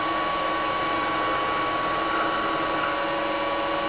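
A workshop machine with a slow-moving cutting bit running steadily, giving a loud continuous mechanical whine and hum with a faint tonal drone, unchanging throughout and with no talking.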